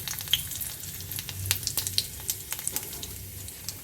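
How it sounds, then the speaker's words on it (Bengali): Whole white cumin seeds crackle in hot oil, a close sizzle with quick sharp pops. "তখন আমি দিয়ে দিচ্ছি হলো গিয়ে গোটা জিরে,"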